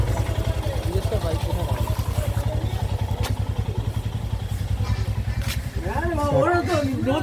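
A motorcycle engine idles close by with a loud, steady throbbing beat, while people talk over it near the end as the bike is parked.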